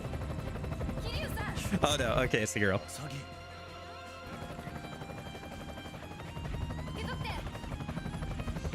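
Helicopter rotor drone in the zombie action game Yakuza Dead Souls, a steady mechanical thrum running under game effects while a person talks over it.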